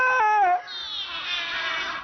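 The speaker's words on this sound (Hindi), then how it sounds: "काली बिल्ली! इतनी सारी" Several cartoon black cats meowing in quick succession, a couple of short sharp cries followed by a long drawn-out whining yowl, loud and close.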